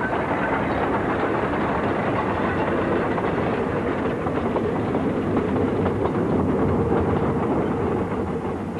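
A steam locomotive running along a branch line, giving a loud, steady rumble with rhythmic clickety-clack from the wheels and a continuous chuffing roar, heard close and uninterrupted throughout.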